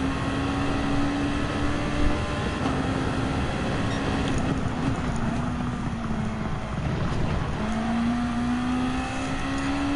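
A Honda NSX race car engine in the video game Gran Turismo 7 drones steadily and loud throughout, its pitch sliding up and down through gear changes with a constant whoosh of wind behind it.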